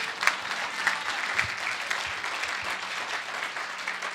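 A church congregation claps together in a steady, dense patter of applause that lasts several seconds, heard alone without voices.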